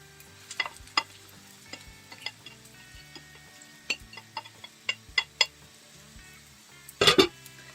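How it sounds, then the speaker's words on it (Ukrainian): Carrots sizzle softly in oil in a pan while a utensil stirs and scrapes in irregular knocks, ending with a louder clattering burst. "І тепер обсмажую. Смажимо з вами теж до м'якості."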